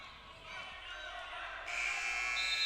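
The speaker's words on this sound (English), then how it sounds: "And there's the buzzer." A buzzer sounds at the end of a period in a college wrestling match between AU and Carthage College, a steady bright electronic tone rising in the final second over gym crowd noise and commentary.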